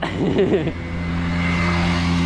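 A car passes cyclists riding on a road in Switzerland, its engine drone rising and steadying as it goes by, with a brief horn-like tone and a shout at the start; one person briefly calls out over the traffic.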